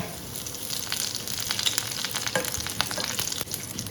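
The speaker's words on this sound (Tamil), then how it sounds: "கொஞ்சம் கடுகு போட்டுக்கலாம், கொஞ்சம் உளுத்தம் பருப்பு, அப்புறம் கொஞ்சம் கருவேப்பிலை." Mustard seeds, urad dal and curry leaves sizzle in hot oil for a Chettinad chutney tempering: a steady, close crackling hiss scattered with sharp pops and spits, with no voices.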